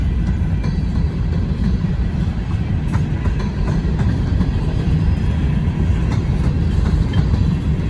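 A CSX freight train hauling freshly painted hopper cars rolls steadily past close by, a loud continuous rumble of wheels and cars with faint rhythmic clicks over the rail joints throughout.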